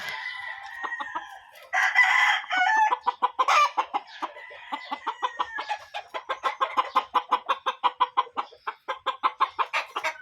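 Chickens cluck and chatter close by, a rooster-like call rising early, then a long run of rapid, rhythmic clucks pulsing steadily to the end.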